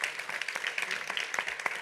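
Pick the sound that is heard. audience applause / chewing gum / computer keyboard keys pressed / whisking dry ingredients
audience applause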